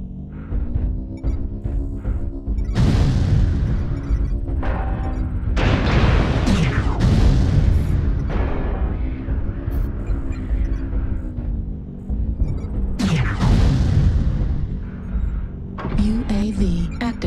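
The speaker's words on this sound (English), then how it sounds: "Artillery strike activated." Artillery strike explosions in a shooter game land as several heavy, booming blasts with rumbling tails, heard over continuous game noise and engine-like hum.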